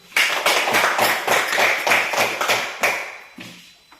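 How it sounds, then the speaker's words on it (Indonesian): A classroom of students claps in applause, about eight quick rhythmic bursts of hand claps at close range, slowing and fading toward the end with no talking. "Tepuk tangan dulu."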